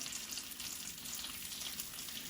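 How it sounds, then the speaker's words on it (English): Bacon frying in a pan, a close, steady crackling sizzle holding at an even level with no talk. "But this is the traditional way of cooking bacon."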